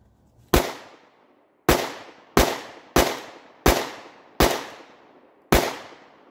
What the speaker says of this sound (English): Next up, 9 mil Mossberg MC1SC.